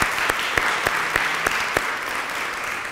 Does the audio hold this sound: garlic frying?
no